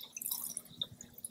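Water overflows a small glass as it is poured from a measuring cup, giving a quick run of light drips and splashes.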